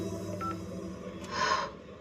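A phone dials out with two brief, quiet keypad beeps, one early and one slightly longer near the end, over a low, steady background hum.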